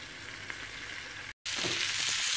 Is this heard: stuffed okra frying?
yes